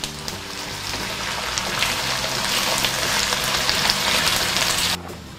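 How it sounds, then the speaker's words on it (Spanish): Peppers or similar ingredients frying in a pan for a homemade breakfast, a steady dense sizzle and crackle that holds evenly for about five seconds and then cuts off abruptly near the end. "Y vamos a freír aproximadamente unos 3 o 4 minutos."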